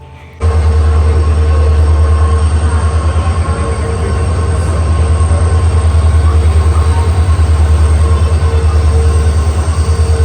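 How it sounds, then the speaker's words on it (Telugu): A train rumbles in loudly and continuously after a brief quiet start, with a deep engine drone, rhythmic wheel noise and faint squeals nearby. "ఇంకా కొంచెం సేపటికైతే ట్రైన్ వచ్చింది"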